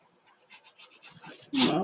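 Sandpaper rubs on a craft store wood shape in short, quiet rhythmic strokes that speed up slightly, followed by a louder burst of voice at the end.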